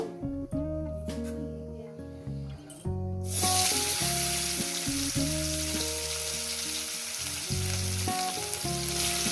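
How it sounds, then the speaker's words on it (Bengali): Tomatoes frying in hot oil with black cumin seeds, a loud steady sizzle that bursts in partway through and continues over layered tonal background sounds. "দিয়ে দেবো টমেটো"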